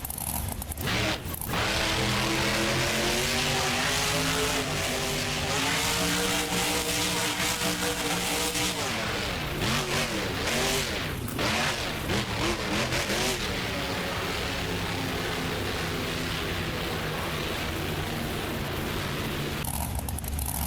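Monster truck engine from the Donkey Kong truck in BeamNG Drive, a Monster Jam freestyle event on a large Atlanta course: loud, sustained engine revving with rising and falling pitch sweeps that continue steadily for about twenty seconds.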